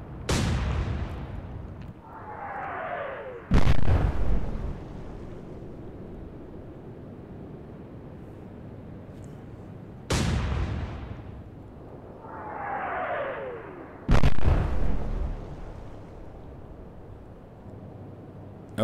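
Naval guns boom in two heavy artillery salvos during an Atlantic Fleet naval battle game, each followed by a whistling incoming shell and a second sharp blast, under a steady wind-like background rumble.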